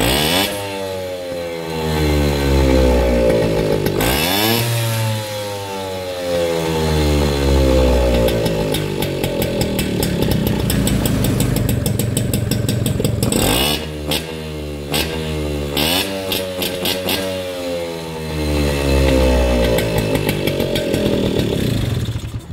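A Peugeot 103 moped fitted with a 46 Airsal cylinder and kick starter revs repeatedly, its buzzing two-stroke engine rising and falling in sharp sweeps, loud and close, with no talk.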